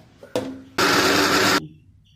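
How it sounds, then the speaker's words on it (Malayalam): A mixer grinder blending cooked jackfruit whirs loudly for under a second after a short preceding burst, then cuts off abruptly, leaving quiet. "ചക്ക അപ്പം നന്നായി വെന്തിട്ടുണ്ട് ഇത് നമുക്കൊന്ന് മിക്സിയിൽ അടിച്ചെടുക്കാം"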